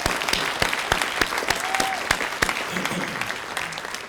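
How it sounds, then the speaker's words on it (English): Steady applause from an audience at a 2021 alumni awards event, dense clapping holding at an even level throughout, with a few sharper individual claps standing out. "Let's give her a round of applause, her and her team."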